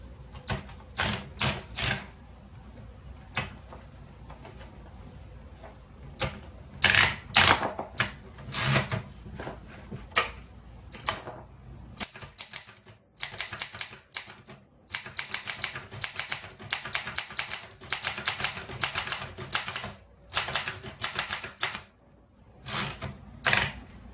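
A 1941 Remington Envoy portable typewriter with worn front feed rollers typing in bursts of sharp, close key strikes, with brief pauses and a carriage-return-like break midway.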